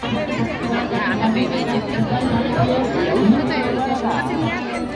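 Crowd of people gathered at a riverside temple near Dwarka, a steady close babble of overlapping voices with no single speaker standing out.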